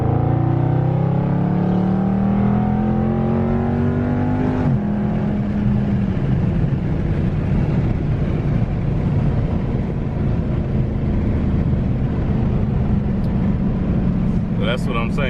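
A car engine revs up, pitch rising steadily, then roars on loudly as it accelerates, with someone talking over it.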